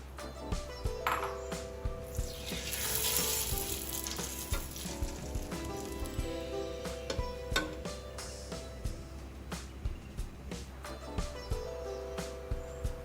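Homemade sun-dried papad fry in hot oil with a steady, close sizzle and bubbling, punctuated by light clinks and taps of a utensil against the pan.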